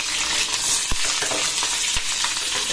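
Green chillies frying in a spoonful of oil in a pan, a steady close sizzle with a couple of sharp pops and occasional stirring scrapes, no voices.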